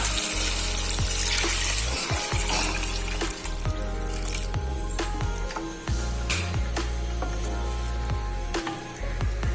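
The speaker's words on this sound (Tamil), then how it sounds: "நம்ம ரெடி பண்ணி வச்ச இந்த கழனி சாரை இதுல சேர்த்துக்கலாம்" Drumstick-leaf rice water (kalani saaru) poured into a pan, a continuous splashing pour with sizzling and clinks of utensils, close and steady without talk.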